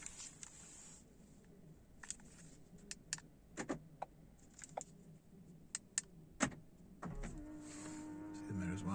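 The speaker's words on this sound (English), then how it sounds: "See the mirrors wind in." The electric door mirrors of a Ford Fiesta ST fold in with a brief motor whir near the end, after a run of sharp clicks and key-fob taps inside the car.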